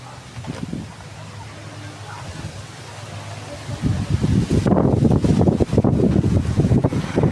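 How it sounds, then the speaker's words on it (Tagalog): Wind buffeting the microphone in rough, gusty rumbles that strengthen toward the end, with faint voices in the background. "Ang hangin."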